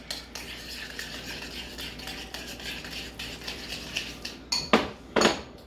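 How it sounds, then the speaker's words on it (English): A hamburger steak mixture with mustard and pickle relish is mixed in a bowl, giving steady close clinks and scrapes of utensil against dish that end in two louder knocks. "Now I'm just going to mix it up"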